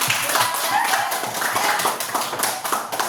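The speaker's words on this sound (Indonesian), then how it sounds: "Tepuk tangan dulu untuk Firman." Students in a classroom clap together for a classmate, bright crisp handclaps in a quick, slightly uneven rhythm, close and loud throughout.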